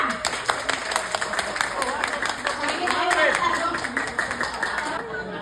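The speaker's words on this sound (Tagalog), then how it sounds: "Palakpak sa team masaya!" Guests at a 60th birthday party clap together in a steady, dense patter of hands, with voices and crowd chatter mixed in throughout.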